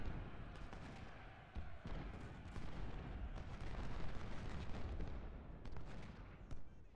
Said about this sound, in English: now that our artillery is in position, now they can start doing some work on the Confederates